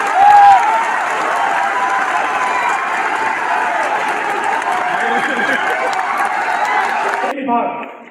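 A large crowd claps and cheers to welcome a chief minister at a university youth day event, continuous and fairly loud, with a voice briefly heard near the start, before the sound cuts off abruptly at the end.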